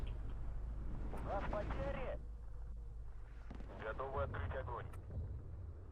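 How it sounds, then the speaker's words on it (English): Mortar and artillery fire in the WW2 real-time strategy game Steel Division 2, with steady low rumbling blasts and booms filling the clip while game voices call out over the battle. "I reckon if we mortar this area we can."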